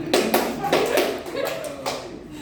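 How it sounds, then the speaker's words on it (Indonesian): A group of adults in a classroom career-guidance session claps in short, sharp unison beats, a handful of distinct claps spaced unevenly over a couple of seconds with faint voices around them. "Tepuk 4, prok prok prok prok"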